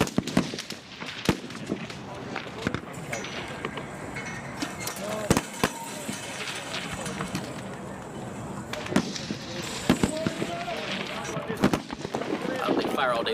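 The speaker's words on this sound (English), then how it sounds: "this is their first time ever actually firing a live round" Marine recruits firing live rifle rounds on a training range: sharp, irregular cracks of gunfire, some near and some distant, going off over a constant outdoor rumble.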